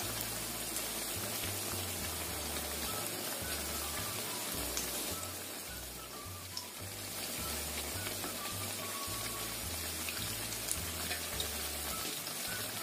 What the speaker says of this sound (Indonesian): Kita goreng sampai kuning keemasan, sambil kita bolak-balik seperti ini.